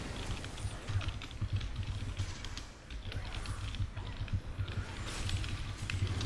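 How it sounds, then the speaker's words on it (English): Quiet, steady typing on a computer keyboard runs through the whole stretch, soft rapid key clicks beneath a low background hum, no voices. "Okay, I apologize for typing."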